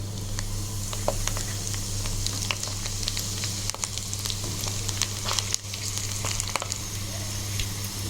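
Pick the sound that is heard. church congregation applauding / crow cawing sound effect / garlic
garlic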